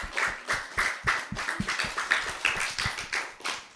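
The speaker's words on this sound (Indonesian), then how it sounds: "kita kasih tepuk tangan dong" Steady clapping from a crowd, a burst of many hands applauding together at an even, lively pace, fairly close and with no voices over it.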